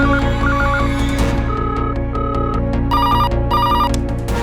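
Office telephones at a minister's and police commissioner's offices ring insistently, electronic trilling rings repeating in bursts and overlapping over a steady background drone, with no talk.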